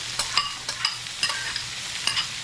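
Mixed vegetables with beans and carrots stir-fry in a pan for chow mein, a steady close sizzle broken by repeated scraping stirs of the spatula at an uneven rhythm.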